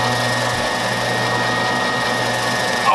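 A wood lathe spins a bowl with a steady, even mechanical whir and hum, close and continuous, with a brief rise in noise at the very end.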